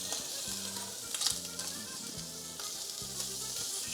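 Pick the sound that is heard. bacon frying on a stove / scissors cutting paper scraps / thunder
bacon frying on a stove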